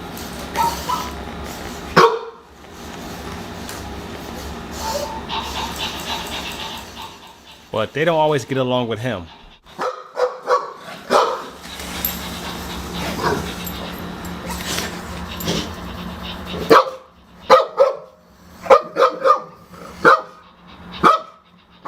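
Dogs bark and yip at a Zoomer robotic puppy, a series of short sharp barks and whimpers scattered between stretches of a person talking, with a higher squeaky electronic chirp from the toy in the middle.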